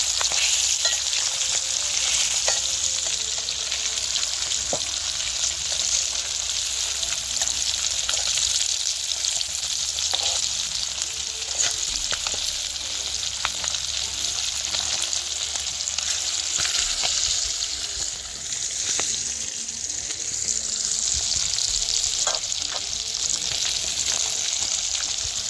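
Small hilsa fish fry village-style in a hot pan, a loud, steady sizzle and crackle that holds for the full length with occasional sharper pops and no voices.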